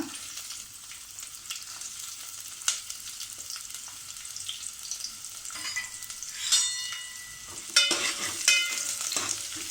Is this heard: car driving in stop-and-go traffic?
no